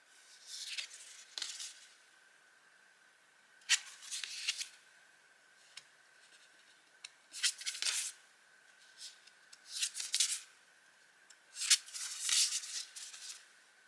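A stack of trading cards being handled and shuffled, giving soft papery slides and riffles in short separate bursts with quiet gaps between them, close by and with no talking.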